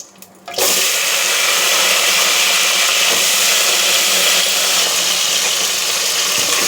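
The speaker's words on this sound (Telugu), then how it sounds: "వంకాయలు ఇప్పుడు ఆయిల్లో వేయించుకుందాము." Brinjals drop into hot cooking oil with a sudden loud burst of sizzling, then a dense, steady frying hiss carries on close by without any talking.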